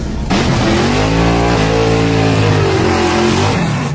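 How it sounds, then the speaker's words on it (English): A drag race car launches and accelerates down the strip at night, its engine holding a loud, continuous roar whose pitch climbs and shifts through the run. "Pretty Tony racing late at night"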